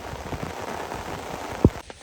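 Steady rain falls on a river during a feeder fishing trip on the Desna, a dense even patter with one brief sharp knock near the end.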